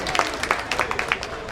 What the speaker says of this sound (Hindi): जोरदार तालियों के साथ दोनों का अभिनंदन करें